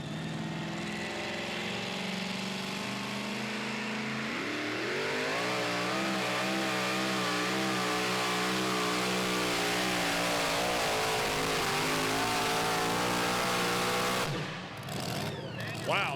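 A super modified two-wheel-drive pulling truck named Full Throttle roars at full throttle during a pull at Franklin, Kentucky, its engine howling loud and steady, climbing in pitch and holding for over ten seconds before a brief drop.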